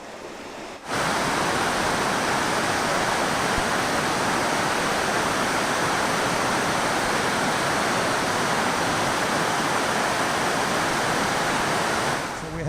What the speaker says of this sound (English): Nice waterfall. Good amount of water coming over it today.